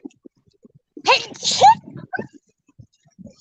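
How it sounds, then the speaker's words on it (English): A person out fishing lets out one sudden, sharp, squeaky sneeze, close and loud, framed by a few soft clicks and small movement sounds. "I sneezed."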